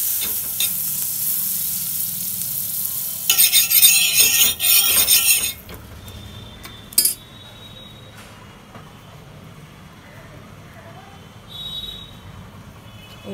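Butter hits a hot tawa griddle while a veg sandwich is being made, bursting into a loud, bright sizzle for a couple of seconds. It then drops to a quiet background with a few faint clinks.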